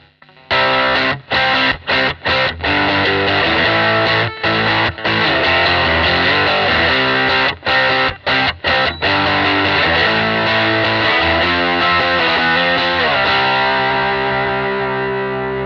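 Heavily distorted electric guitar, a Stratocaster on the bridge pickup through a Funny Little Boxes 1991 distortion pedal, playing loud sustained chords with brief stops between strums, ending in a long ringing chord that slowly fades.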